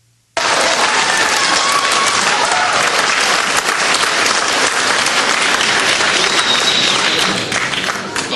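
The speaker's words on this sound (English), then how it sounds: "The majority of the crowd booing." A large crowd at a political talk-show segment makes a loud, sustained roar of booing and noise that fills the whole stretch without a break, with no clear speech above it.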